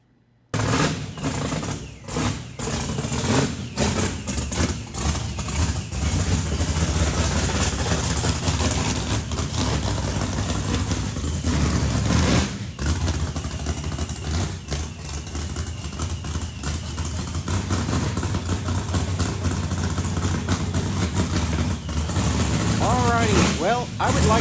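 A drag car at an auto repair shop idles loudly with a rough, lumpy rumble, breaking into several revs over about twenty seconds, close and dominant.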